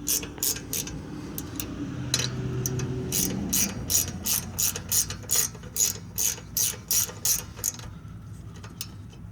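A ratchet wrench snugs the rear caliper bolts on a 2004-2009 Nissan Quest during a wheel bearing job: rapid bursts of close metallic clicking that grow into a steady rhythmic series, with brief talk early on.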